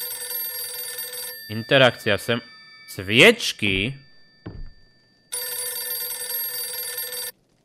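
Telephone ringing inside the Visage horror video game, a loud steady electronic ring heard in two long bursts at the start and end, with someone speaking quietly between them.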